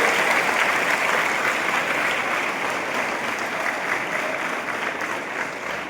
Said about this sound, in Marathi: आता तुम्ही ज्या होशमध्ये टाळ्या वाजवल्या